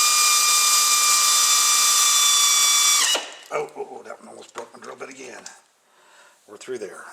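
A loud, steady high-pitched power drill whine, drilling through the seat metal of a 2009 Pontiac G6, winds down after three seconds, followed by someone talking up close.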